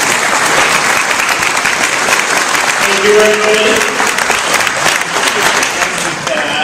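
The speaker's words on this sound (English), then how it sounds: "We have a round of applause again." A crowd claps loudly and continuously at a senatorial candidate forum, sustained applause with someone briefly speaking over it midway.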